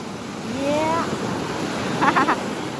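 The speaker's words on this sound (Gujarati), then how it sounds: "પવન કેટલો છે" Strong wind blows across open sea water on a fishing outing, a steady broadband rush with surf-like wash throughout; a voice speaks briefly amid the gusts.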